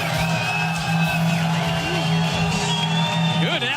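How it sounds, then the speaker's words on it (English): A stadium crowd in Dallas roars steadily at a World Cup match between England and Croatia, a dense, continuous wash of cheering and shouting with scattered whoops, with a voice speaking over it. "What a crowd."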